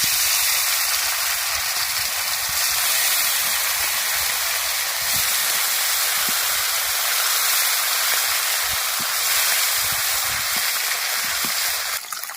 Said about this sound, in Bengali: এবার কড়ার মধ্যে মাছ ছেড়ে দেবো